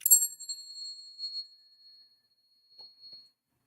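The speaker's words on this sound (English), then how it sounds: "I'm going to ring the bell a couple more times." A single bell struck to clear a room gives one bright, high metallic ring that sustains and slowly decays, followed by a faint second tap near the end, with no voices.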